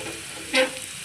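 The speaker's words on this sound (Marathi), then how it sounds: "मी आपली कोथंबीर वडी आता तेल तेलामध्ये टाकते" Coriander fritters (kothimbir vadi) made with sesame seeds go into hot oil, giving one short, soft burst of sizzling in an otherwise quiet moment.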